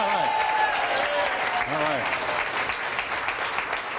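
Applause from a group rather than a single person clapping, dense and steady at a moderate distance, with a brief spoken exclamation and other voices over it.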